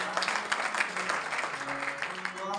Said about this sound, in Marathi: टाळी वाजवा एकदा